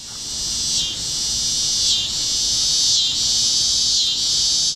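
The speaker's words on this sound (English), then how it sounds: "this humongous cicada from Iowa that makes a completely different noise" A loud, continuous cicada buzz from a large Iowa cicada drones steadily, swelling and dipping in roughly one-second pulses, close and unbroken.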